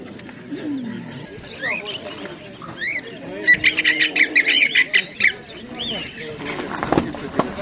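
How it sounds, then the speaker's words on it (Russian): Birds at an outdoor decorative bird market in Kropotkin, with pigeons among them, make a lively mix of squawks, coos and chirps over crowd chatter, with a busy burst of calls in the middle. "Какие голуби красивые"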